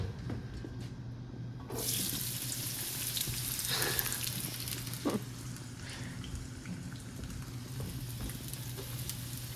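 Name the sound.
onion sautéing in oil in a skillet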